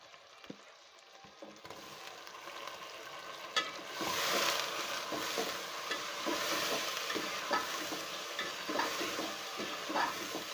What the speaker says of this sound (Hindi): इसको हम गोश्त को जो है अच्छी तरीके से प्याज में फ्राई कर लेंगे।